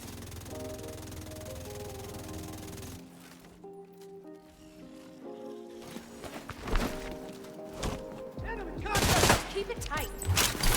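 A St. Elmo's Engine assault rifle in The Division 2, with a 1414 RPM fire rate and shock rounds, rattles in a rapid burst, then breaks into scattered shots and impacts beneath a voice and game music.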